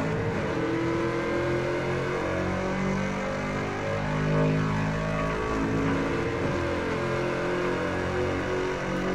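Race car engines roar together after the green flag in a sim racing game at Virginia International Raceway, a dense continuous droning mix of Mazda MX-5, VW TDI and Mustang cars, loud and steady throughout.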